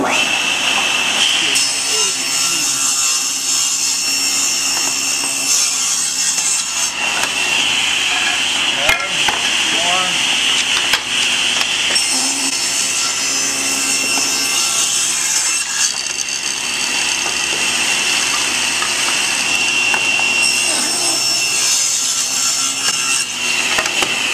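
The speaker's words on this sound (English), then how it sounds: "We're going to cut it two inch wide, and then we're going to save the one inch wide scrap piece that gets cut off." A power saw rips wood into two-inch strips for a storage chest, a loud continuous whine and rasp that runs throughout with small shifts in pitch as the cut progresses.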